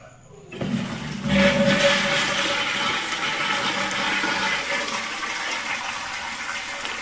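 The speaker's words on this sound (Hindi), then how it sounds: "चलिए फ्लश करके एक बार ट्रायल लेते हैं" A newly installed toilet flush tank flushes loudly, a sudden rush of water that settles into a steady gurgling refill of the tank, heard alone.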